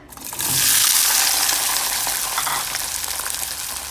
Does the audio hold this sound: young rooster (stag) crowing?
no